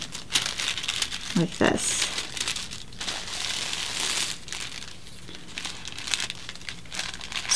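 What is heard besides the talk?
folding paper sewing pattern in half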